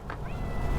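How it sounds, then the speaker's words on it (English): A cat meows once, fairly close, over steady low background noise outdoors in a residential area; a single short rising call. "Oh, and here are all the cats."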